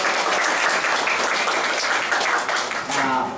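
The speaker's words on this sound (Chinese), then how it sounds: "我们是不是再一次的掌声给我们的中钢" Sustained audience applause at a hospital book launch press conference, dense, steady clapping from a large crowd, loud and close, tapering slightly near the end.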